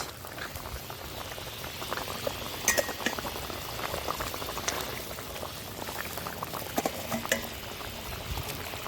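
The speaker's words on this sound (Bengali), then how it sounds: "ঝোল ভালো করে ফুটে গেছে" Fish curry broth bubbling in a pot, a steady close simmer with soft popping bubbles and a few faint clinks, no voice.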